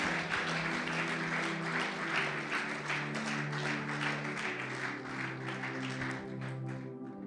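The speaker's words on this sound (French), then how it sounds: "Let's clap for him." A congregation claps steadily in church during an anniversary service, dense continuous applause over a sustained musical backing that fades slightly toward the end.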